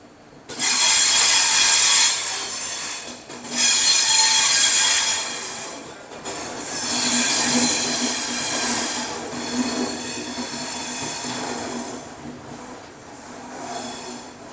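Shatabdi Express train on the Chennai–Bengaluru route rolling along the rails, a loud steady rumble with high wheel squeal and bursts of clatter that swell and ease across the stretch, with no talk.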